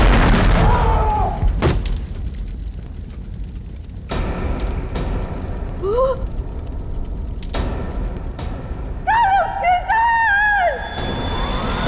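A bomb explosion in a Hindi TV crime drama, heard as loud, deep booming hits among wailing, siren-like tones and dramatic sound effects that continue throughout.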